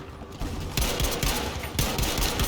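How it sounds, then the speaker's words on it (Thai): Sustained automatic gunfire from a Battlefield V match, with dense bursts of rifle and machine-gun fire rattling continuously at close range and swelling louder in two surges. "มีคนยิงมา"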